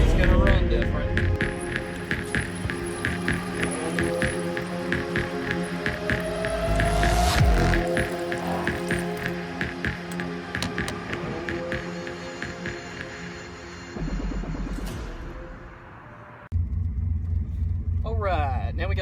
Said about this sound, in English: this truck's going to idle different, it's going to sound different, it's going to run different.